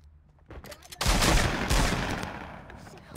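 A sudden loud burst of gunfire in Fortnite, sharp shots followed by a rumbling tail that slowly fades, with faint game sounds before it.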